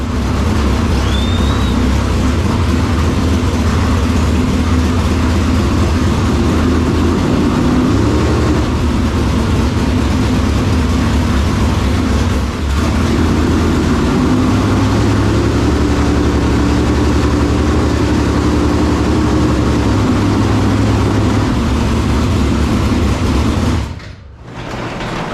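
A race car engine runs steadily at a loud, close idle for about twenty-four seconds, with a deep throbbing rumble and slight shifts in tone, then drops out near the end. No one speaks.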